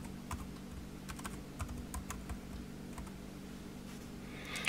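Typing on a computer keyboard to enter a command, a steady run of crisp close key clicks in an otherwise quiet room.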